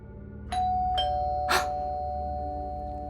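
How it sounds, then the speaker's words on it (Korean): A doorbell rings as an audiobook sound effect, three quick chimes struck in succession with a bright tone that lingers and fades alone in a quiet room. "다시 초인종이 울렸다."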